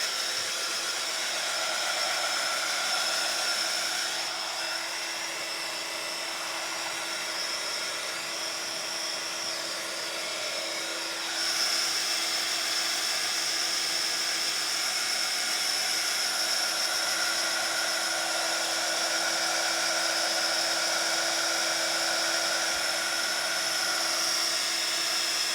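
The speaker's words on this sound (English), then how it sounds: "I'll give it a quick waft with a heat gun" A heat gun blowing hot air over a mixed media art journal page, a continuous high-pitched whirring drone held steady throughout, slightly louder after a brief dip partway through.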